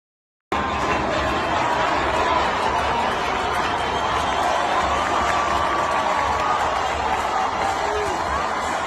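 Huge street crowd in Tehran, Iran, a continuous dense roar of many voices chanting and shouting, steady and loud from start to finish after a short silent opening.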